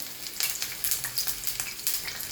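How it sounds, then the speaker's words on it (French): Onion pieces sizzle in hot oil, a steady crackling fry with bursts of sharper spatter that recur every half second or so, close and moderately loud with no voices. "Je jette quelques morceaux d'oignon pour parfumer."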